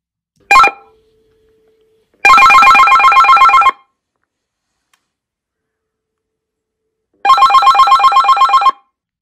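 A loud Geemarc AmpliPower 50 amplified telephone bell rings in two long, rattling bursts separated by silence, with a brief ding at the start.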